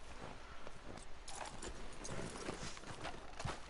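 A horse clip-clops along in Red Dead Redemption 2, with a faint, steady trot of hooves under a dense game ambience.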